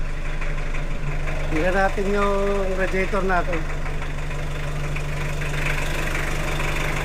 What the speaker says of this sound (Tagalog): pinapaandar natin yung makina